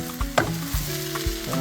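Shrimp fried rice finished with sesame oil and green onion is tossed in a hot pan, giving a sizzling hiss and quick scraping strokes of a utensil, close and brisk.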